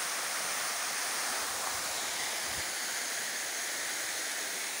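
Cascata de Thunder, a waterfall in the Thunder neighbourhood, roars as a steady, dense broadband rush with no pauses, close and continuous throughout.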